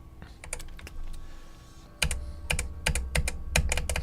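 Computer keyboard keys click rapidly during a game, in quick bursts of sharp taps with brief pauses between them, close and fairly loud over faint background hum.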